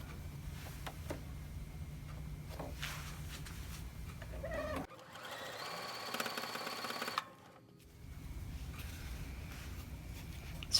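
Sewing machine stitching wonky star quilt blocks: a steady mechanical whir with a faint rhythmic tick, running for a few seconds in the middle before stopping, set against quiet room hum.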